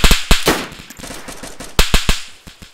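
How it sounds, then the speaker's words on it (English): Bursts of gunfire from the DayZ Standalone game at the North West Airfield, several sharp cracking shots in two clusters, loud and close, with rapid follow-up rounds and no talk over them. "Yeah, he's shooting at me."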